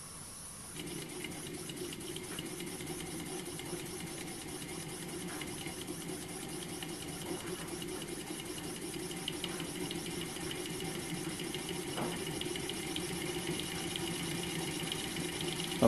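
Home-made rocking beam model steam engine running steadily nearby, a continuous hissing, clattering mechanical rhythm with occasional brief clicks, no talking.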